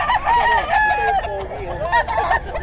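A Golden Boy Sweater gamefowl rooster at the Bocaue pet market crows loudly and close up, its warbling call rising and falling over a little under three seconds.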